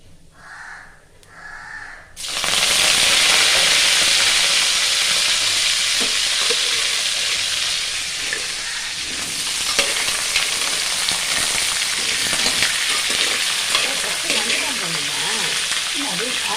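Crab fries in hot oil with fennel seeds and curry leaves, a loud dense sizzle that bursts in after a brief quieter opening and carries on with occasional stirring clinks, while a crow caws faintly in the background.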